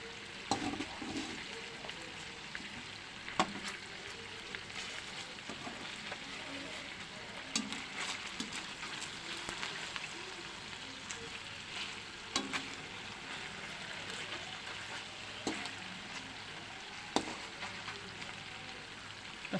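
Chicken browning in its own rendered fat in a pan, a quiet, constant sizzle and crackle with occasional sharper pops and faint stirring scrapes, heard alone without talk.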